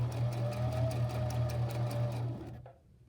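A sewing machine stitches the bar tack at the bottom end of a buttonhole, giving a steady, rapid mechanical whir with a fast even beat. It runs close and loud, then stops abruptly near the end.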